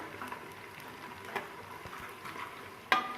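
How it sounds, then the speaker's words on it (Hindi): Whole cumin, star anise and cinnamon crackle softly in hot oil for a mutton biryani, a faint continuous sizzle with scattered small pops and one sharper spatter near the end. "मैं इसमें डालूँगी साबुत ज़ीरा, और इसको फ्राई करेंगे हम"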